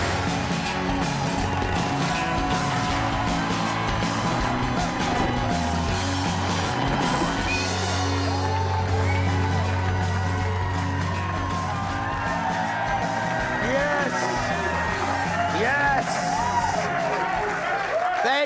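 A studio audience cheers, applauds and whoops steadily at a live news show, a loud continuous crowd roar with shouts rising throughout and no single voice standing out.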